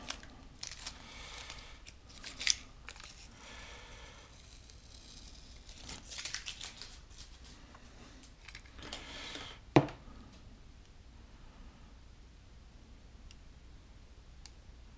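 Masking film is peeled slowly off the nacelle of a 1/1000 scale Discovery Enterprise model kit after light coats of paint, giving faint scattered tearing and crinkling with a sharper snap near the end.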